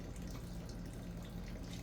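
Water boils in a cooking pot for a Filipino inabraw vegetable stew, with onions added. A faint, steady bubbling hiss continues without a break and with no voices over it.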